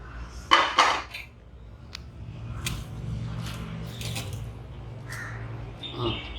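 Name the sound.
draining cooked semiya vermicelli in a pot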